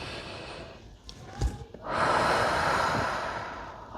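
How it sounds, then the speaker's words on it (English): A slow, deep breath drawn in during a calm breathing exercise, a soft airy inhale that swells and holds close to the microphone after a few faint rustles. "I always like to do this and take a nice deep breath."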